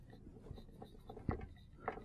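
Writing during a French math lesson, with faint scratching strokes and light taps in a soft irregular rhythm, heard close and quiet.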